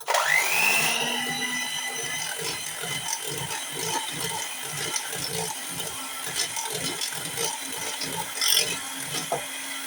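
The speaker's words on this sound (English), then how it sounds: "We'll lose a little bit of volume of air by whisking in this bit of yogurt into these yolks." Yogurt is whisked into egg yolks in a bowl, making a rapid, regular clattering rhythm of whisk strokes that runs steadily throughout at close range.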